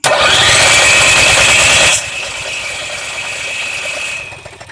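An RV generator engine on a 2021 Redhawk 26XD motorhome fires up after its fuel pump is primed, roaring loudly for two seconds and then settling into a steadier, quieter running drone, heard close with no talking.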